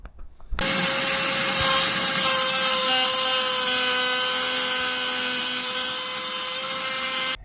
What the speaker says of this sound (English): how did we do today with this Bayer 20 volt lithium ion cutoff tool, oscillating tool? It went very well considering here's the bolt that I just cut the head off